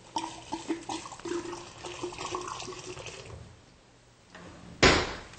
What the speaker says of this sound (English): Pour the booze in there.